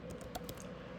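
Keystrokes on a computer keyboard while entering text into a budgeting spreadsheet: several quick, light taps close by, with a steady low background hum and no talking.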